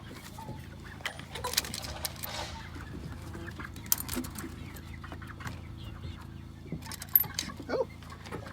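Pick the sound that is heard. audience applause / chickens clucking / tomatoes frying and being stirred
chickens clucking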